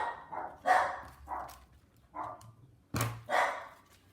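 Several dogs bark indoors in a run of sharp, repeated barks at uneven intervals. They are close and moderately loud, with one louder burst near the end.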